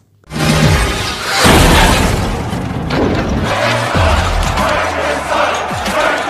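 In a death-race prison film, a beloved combat car is smashed apart with a sudden loud crash, then grinding, shattering debris and heavy thuds that continue for several seconds under faint crowd noise.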